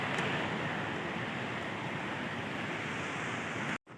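Fast-flowing muddy river water in the Neelum Valley, Azad Kashmir, a loud, dense, continuous rushing roar that stays steady, then briefly cuts out near the end.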